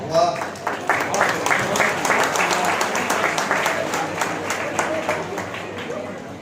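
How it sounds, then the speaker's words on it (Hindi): A seated audience at a lecture and poetry-reading event claps warmly after a patriotic Hindi poem, the dense applause holding steady for several seconds before easing off slightly at the end. "इस अद्वितीय वाणी वंदना के उपरांत जितनी भी तालियां आई"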